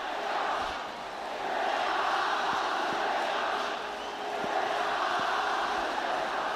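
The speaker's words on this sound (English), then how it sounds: "the cries from every single member of this audience" A large cricket stadium crowd at the Nepal vs UAE World Cricket League 2 final roars and chants "Nepal" together in a steady, sustained wall of voices, with occasional sharp claps or bangs cutting through.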